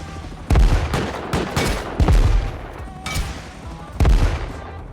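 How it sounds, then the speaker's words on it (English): Gunfire from shot-out clan turrets in a survival video game: several loud bursts of shots at irregular intervals, around 0.5, 1.3, 2.1, 3.1 and 4.1 seconds, over a constant background rumble. "Thick started shooting out the clan's turrets so we could build onto their roof"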